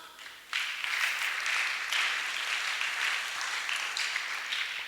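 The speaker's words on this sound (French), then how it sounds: "On acclame." Audience applause at a French-language religious gathering, a loud, steady roar of clapping from a large crowd that swells after a brief quieter start and holds for several seconds.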